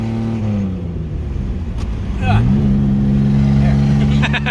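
An old car engine, left sitting more than 15 years, idles with a rough low drone, then revs up sharply to a higher, steadier roar at close range, with a brief light rattle near the end.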